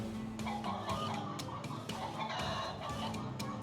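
Chickens cluck steadily at the chicken seller in the Sammy Seal 2 video game, a busy layered run of fowl calls over looping game music with no talk.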